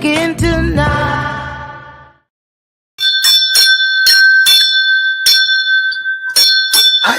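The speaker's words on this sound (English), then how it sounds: "I love my bell of purpose." A hand bell rings loudly in a long decaying peal, falls silent, then strikes again in a quick series of bright clanging rings.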